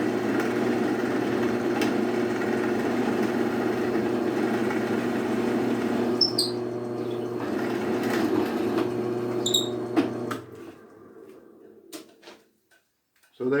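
Drill press boring a hole through wood for a rocking chair peg, a steady motor whine with grinding cut noise for about ten seconds, then winding down to near silence with a few small clicks.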